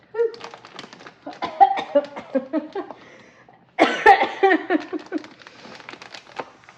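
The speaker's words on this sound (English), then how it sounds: "I was sneezing and coughing over here because of the seasoning" A few close, sharp coughs from seasoning while cooking break out amid some crinkling and rustling, with brief quiet gaps between bursts.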